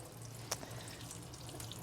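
Regular water pours through the soil of a potted anthurium, flushing it during repotting, a soft steady trickle with a brief splash near the start, quiet and close.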